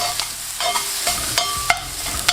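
Jalapenos with a touch of oil cooking in a pan for a double cheeseburger, sizzling steadily throughout with a few brief stirring clicks and scrapes over the top.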